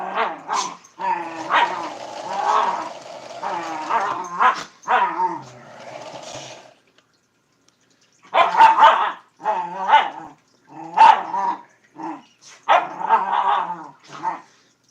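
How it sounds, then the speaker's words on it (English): Several small dogs bark and yip close by in a home sewing room, bursts of rapid, overlapping yapping broken by a short quiet gap before the barking resumes. "What sort of, what breed of dogs do you have, Lucille?"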